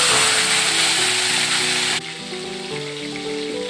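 Onion paste hits hot oil with a loud, dense sizzle that spits steadily, then drops suddenly to a softer frying hiss. Light melodic music plays underneath throughout.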